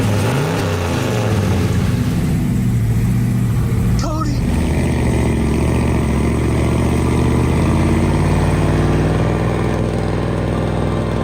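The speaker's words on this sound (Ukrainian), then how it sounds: "Я просто дам газу" A square-bodied car straining under extra weight, its engine droning and revving hard with a loud, continuous labouring note, a brief clunk partway through, and voices talking over it.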